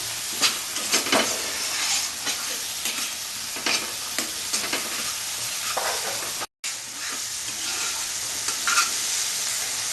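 Bengali spice paste fries in oil for rui fish kalia, a close, steady hissing sizzle with intermittent stirring knocks and one brief cut to silence partway through.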